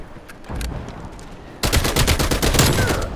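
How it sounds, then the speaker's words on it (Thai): Full-auto TEC-9 SMG fire in Call of Duty: Black Ops Cold War, a few short bursts followed by a loud, sustained rapid stream of shots, close and dominant. "เรายิงกันตึง ๆจ้าเอ๋ อันนี้เป็นแบบฟูลออโต้นะ"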